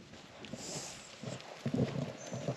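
Goats on a farm walk about with soft, irregular hoof steps and light rustling that grow a little louder toward the end, faint and fairly close, with no talking.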